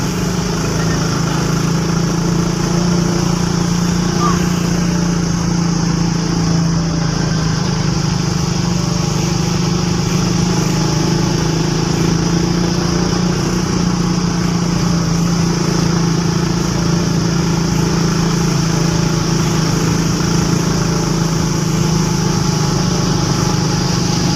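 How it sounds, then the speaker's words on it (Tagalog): Engines of modified motorcycles drone steadily and loudly from start to finish, a dense continuous hum with no distinct rev peaks and no talking. "At dito nga, iba na ang tunog ng mga motor namin mga gar. Tara, pakinggan natin."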